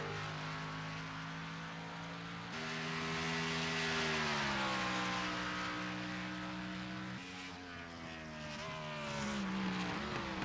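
Race car engines drone steadily in a sim racing game at the Charlotte Roval, pitch rising and falling through gear changes and braking, fairly quiet and continuous.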